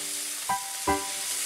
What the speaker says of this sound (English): And some pepper. Stir it all in.